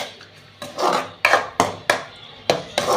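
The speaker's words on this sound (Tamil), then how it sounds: "மூடி வச்சுருவோம்" Several sharp metallic clanks and scrapes sound up close as a lid is handled and set on a cooking pot of karuvadu thokku, a dried fish dish, the hits coming irregularly in a quiet kitchen with no talking.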